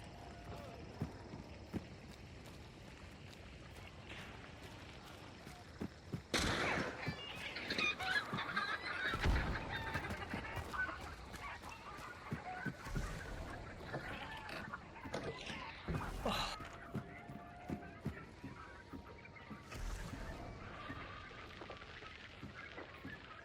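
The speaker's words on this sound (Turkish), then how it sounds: "Oklu şu tavukları sustursana oklu." Busy Hunt: Showdown game scene with chickens clucking and honking amid loud impacts and bursts, voices talking intermittently over the clamor.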